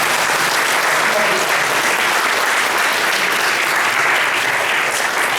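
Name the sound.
audience applause for a professor's presentation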